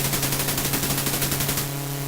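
Rapid machine gun fire from a fighter plane in the flight combat game Chuck Yeager's Air Combat, a steady dense burst of loud rattling shots over a constant engine drone, with the firing stopping near the end.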